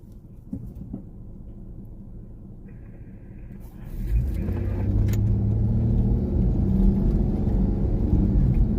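A Rolls-Royce car drives behind on Pacific Coast Highway, its low engine rumble swelling from a quiet background to a loud, steady roar that holds to the end.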